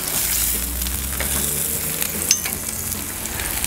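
Eggs sizzle steadily on a Blackstone flat top griddle, a close, continuous hiss and crackle with a brief scrape of a spatula flipping them partway through.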